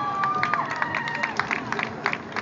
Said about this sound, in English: Big round of applause, my man,